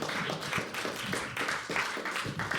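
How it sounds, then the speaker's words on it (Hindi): Audience clapping at a live poetry open mic, a steady crowd applause that keeps going at a moderate level for the whole stretch, with overlapping hand claps and no voice on top. "तालियां बजती रहनी चाहिए"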